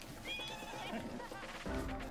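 A horse neighs in The Legend of Zelda: Breath of the Wild, a quiet whinny with wavering pitch sitting low in the game mix alongside other faint effects.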